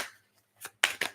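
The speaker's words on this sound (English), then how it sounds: "I know I got to get the right shuffle." A deck of playing cards being shuffled during a live stream, with a soft riffle followed by two brisk, close, crisp bursts of card flutter, no voices.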